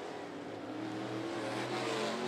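Race cars circle the oval at 411 Motor Speedway, a steady, loud roar of several engines at a distance that swells slightly as they run toward turn three.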